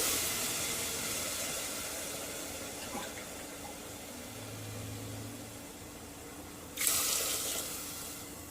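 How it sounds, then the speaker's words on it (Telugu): Two glasses of water are poured into a cooking pot for a traditional moringa leaf curry. A steady, soft rushing splash runs throughout with no voices, and a sharper burst of splashing comes near the end. "ఇప్పుడు ఈ సైజులో 2 గ్లాసులు వాటర్ పోసుకోవాలండి"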